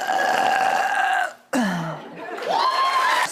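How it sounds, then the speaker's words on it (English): A long, loud, drawn-out human burp, rising and falling in pitch with a brief break midway, heard up close and alone. "Burp."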